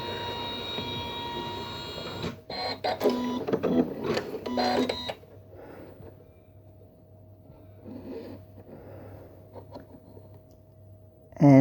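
An embroidery machine stitches a quilt-as-you-go square, giving off a rapid mechanical chatter and whirring for a few seconds before settling into a quieter steady hum with light clicks.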